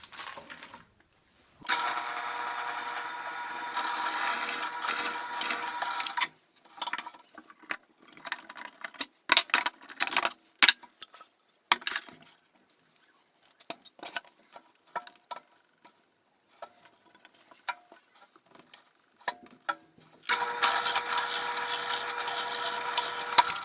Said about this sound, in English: I'm just going to drill them down